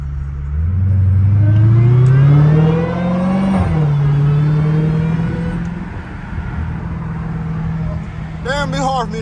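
Straight-piped Dodge SRT Hellcat engine revving hard from inside the car while driving, a loud rising growl that peaks and eases back to a steady drone, with a brief voice near the end.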